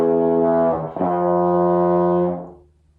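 A trombone plays a low F passage starting in trigger second position, a few sustained low notes with a brief change before a long held tone that fades out, solo and close.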